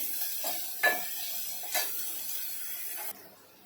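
Onions frying in a pan until reddened, a soft continuous sizzle with a few utensil scrapes and light clinks against the pan, close but fairly quiet, with no voices.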